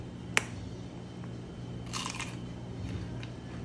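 Crisp bite into crunchy Korean cucumber kimchi, oi sobagi, made with Sangju cucumbers: one sharp close snap followed by softer crunching and chewing sounds, heard alone without talk.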